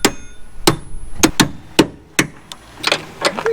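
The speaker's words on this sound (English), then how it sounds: "So we're gonna try smacking this out" Sharp hand smacks ring out against a part on an NA Mazda Miata M-Edition during a bucket seat install, about ten irregular metallic whacks close by with short pauses between.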